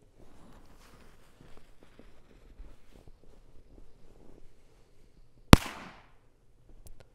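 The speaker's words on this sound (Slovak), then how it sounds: "Rana taká tlmenejšia, lebo bola poriadne hlboko" A Bulldog firecracker explodes buried in snow, a single sharp, muffled bang near the end, preceded by faint crunching footsteps and wind noise outdoors.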